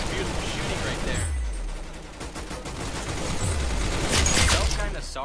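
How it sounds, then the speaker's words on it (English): Video game gunfire from the Roblox shooter Arsenal, bursts of shots crackling amid a busy mix with talk running over it, growing louder and denser near the end. "That's some beautiful shooting right there."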